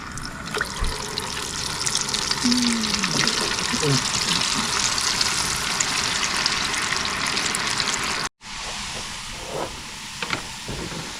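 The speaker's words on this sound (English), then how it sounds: "Okay, so I've increased the heat again for the fries." French fries sizzle in hot oil on a camp stove over high heat, a steady close hiss and crackle that runs unbroken, then cuts out briefly and resumes a little quieter near the end.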